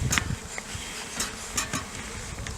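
Honeybees buzz around a hive entrance after smoke has been puffed at it, a steady close insect drone with a few louder passes by individual bees and faint knocks in the background.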